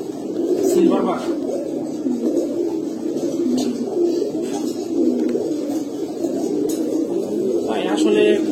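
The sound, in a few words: male pigeons cooing, silver Bagha pigeon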